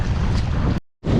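Strong seaside wind at high tide roars and buffets the microphone in a loud rush, cutting out briefly before resuming.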